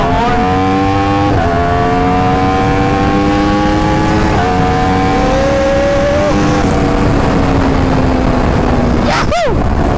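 A big bike motorcycle ridden through traffic in Bacoor: a loud, close engine climbs in pitch through several gears with sharp shifts, then a brief passing whine near the end.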